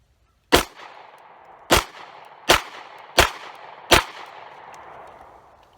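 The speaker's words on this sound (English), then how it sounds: "The Kevlar itself remains intact, so why not keep shooting it?" Five sharp gunshots ring out one after another at uneven intervals of under a second apiece, fired outdoors into a taped Kevlar bulletproof backpack plate, each crack loud and close with a short ringing decay.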